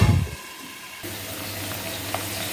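Potatoes sautéing in a pan for sabudana khichdi, a soft steady sizzle close by after a brief louder stir at the start, with no talking.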